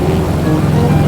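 A Waco biplane's engine runs at full throttle in the flight simulator MSFS 2020, a steady, loud droning roar with no break throughout the short stretch.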